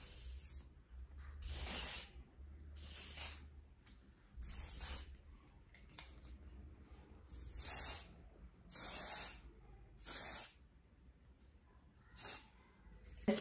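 An aerosol hair spray hisses in a series of short bursts, about seven or eight puffs, each lasting around a second, with quiet pauses between them.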